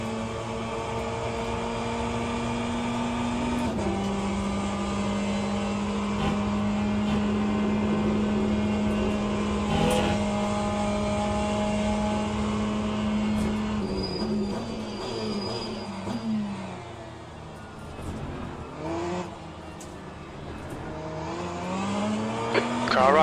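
GTE race cars from Le Mans Ultimate roar around Spa, with a loud, close engine drone holding a steady pitch before shifting, revving and downshifting in the final seconds as the car fights in traffic.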